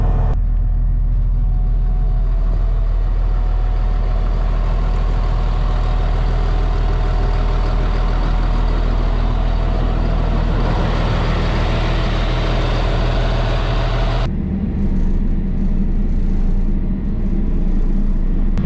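A VW Amarok pickup drives along a road, its engine a steady low drone with continuous rumble, close and loud and unchanging, shifting in tone briefly near the end with no talk.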